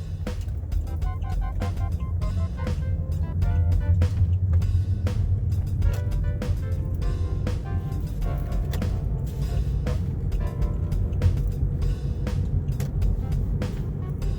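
A car cruising at about 30 to 32 miles per hour gives a steady, close low rumble of engine and road noise, continuous and fairly loud throughout, with no voices.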